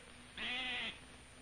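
A single goat on a dairy farm lets out one clear, nasal bleat of about half a second, close and fairly loud against quiet surroundings.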